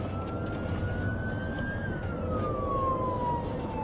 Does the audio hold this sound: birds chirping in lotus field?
no